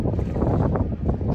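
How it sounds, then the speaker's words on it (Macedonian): A light summer breeze blows steadily by the lighthouse at historic Port Clinton, Ohio, rushing wind buffeting the microphone without a break. "ветренце дува. Летно ветренце."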